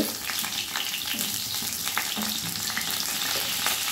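Potato, papaya, sweet potato and raw banana chunks fry in hot oil in a pan for a labra mixed-vegetable dish, a steady close sizzle broken by the scrape and clatter of stirring, with no voices.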